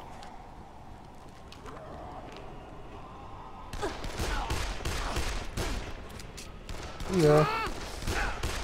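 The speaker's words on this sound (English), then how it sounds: "Got a pistol now, that's kind of cool." Pistol gunfire in the zombie game Dead Island, a run of sharp cracking shots in quick succession over game ambience, with a man's brief remark mixed in.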